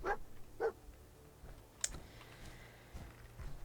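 A dog companion in a post-apocalyptic wasteland game barks twice, sharp and close, early on, followed by quieter rustling and faint background noise.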